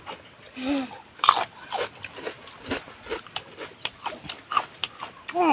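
Crunchy bites of crispy pork rind eaten with a spicy papaya-style salad, a string of close, sharp chewing crackles repeating at a steady pace, with a little talk in between.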